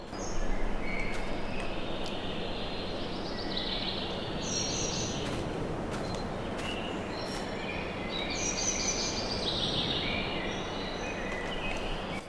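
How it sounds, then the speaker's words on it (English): Birdsong in Farming Simulator 22 on the Calmsden Farm map: faint, scattered chirps and tweets above a steady rural ambient hiss, with no speech. "I really hope all the birds are showing up on in the video."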